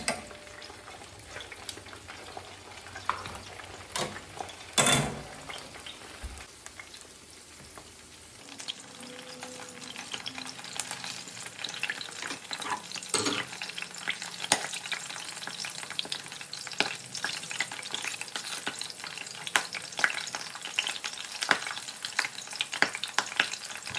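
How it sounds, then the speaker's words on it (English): Loud, crackling sizzle of large artichokes deep frying in hot oil, continuous with occasional pops and clinks of a utensil. "This one's kind of large, and it's having a hard time frying"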